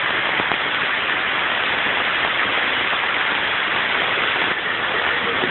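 Hail falling in Berkeley in March, a dense, continuous hiss of small ice pellets striking the ground and surfaces, loud and even throughout with no talking.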